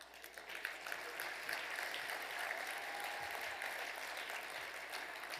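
Dinner guests at an annual leadership event give sustained applause, a dense, even roar of clapping that fills the room and holds steady throughout.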